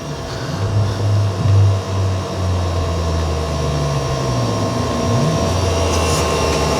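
Thermal cooling fans of a Hyundai Kona electric car run during DC fast charging at a 350 kW charger, a steady loud whirring drone with a low humming tone that wavers slightly, heard close with no talking.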